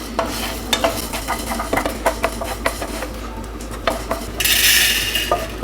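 Whole spices for a mutton masala dry-roasting and being stirred in a pan, with repeated scraping clinks of a spoon against metal, a soft sizzle throughout and a brighter hiss near the end, close and fairly loud.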